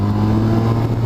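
Honda Crosstourer 1200 V4 motorcycle fitted with a Leo Vince exhaust, a loud, close, steady low rumble with a deep throaty drone and no voices.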